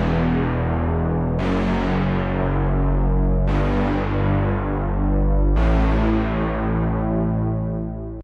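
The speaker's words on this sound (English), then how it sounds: "I found this kind of big brass hit out of the wave." Future Trap brass hit synth sample from a wave pack, set up for an 80s pop and disco pre-chorus, plays four big sustained brass chord stabs, each hit slowly decaying, loud and alone.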